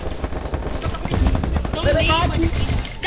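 Rapid bursts of gunfire crackle through a busy game soundscape, with excited voices talking over the shots.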